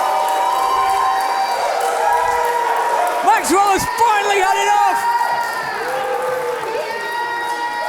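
Wrestling crowd reacting at a live show, a continuous noisy roar of cheers and shouts with a brief loud burst midway, under excited commentator talk.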